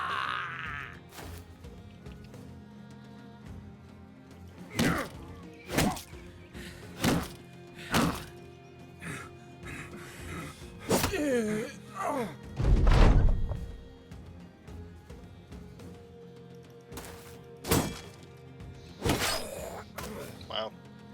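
Melee weapon blows in the video game Battle Brothers land as a series of sharp thunks and thuds, spaced irregularly over about twenty seconds, with one heavier crunching impact midway, over a low game soundtrack.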